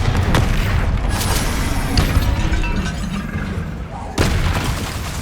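Bombarda spell explosion in the Hogwarts Legacy video game, a dense booming blast that fills the clip, with a second sharp burst near the end, amid continuous game noise and voices.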